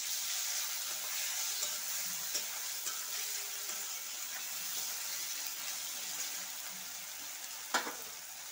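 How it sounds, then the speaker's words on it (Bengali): Garlic paste sizzles in a hot frying pan while a Bengali curry of small pond fish is cooked, giving a steady, even hiss with a few soft clinks. No voices are heard. "এর মধ্যে আমি রসুন বাটাটা দিয়ে দিলাম।"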